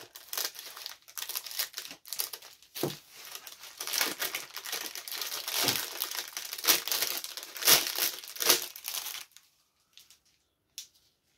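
Plastic packaging around silicone molds is cut open and pulled apart, making close, busy crinkling and tearing rustles for about nine seconds before it falls mostly quiet with a couple of faint final crackles.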